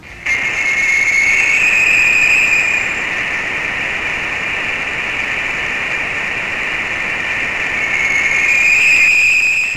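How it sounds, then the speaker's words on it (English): A space probe recording carries a steady, monotonous droning hum throughout, with a piercing high whistle-like tone rising at the start and again near the end, loud and continuous with no voices. "the device recorded a strange sound, a monotonous hum, interrupted by a piercing whistle."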